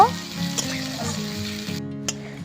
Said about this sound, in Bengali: এবার সব কিছু নেড়ে নিয়ে খুব ভালো করে ভেজে নেব